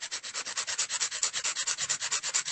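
A nail file rubs across an acrylic nail in steady, even strokes, shaping it square, about twenty quick rhythmic rasps, close and fairly soft, with no talking.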